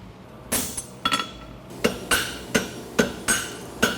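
Hammer blows on a steel bar shoe over an anvil, bending a reverse bend at the outside corner; about eight sharp metallic strikes at a steady, slightly uneven pace, ringing close and bright.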